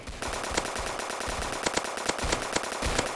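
Machine gun fire in the Roblox Zombie Attack video game, a rapid steady stream of game-audio shots over dense background noise, loud and continuous throughout.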